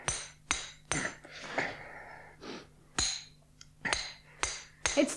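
Repeated heavy hammer blows on a stuck metal part welded fast to its housing, eight or so sharp metallic strikes in an uneven rhythm, close and loud, with strained breathing and gasps between them.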